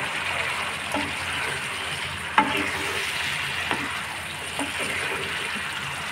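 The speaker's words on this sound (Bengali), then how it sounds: "ভেজে রাখা চিকেনগুলো দিয়ে দিচ্ছি।" Fried chicken pieces are added to a pan of sauce for chicken bhuna, a steady close sizzle with a few sharp clinks and scrapes as they are stirred.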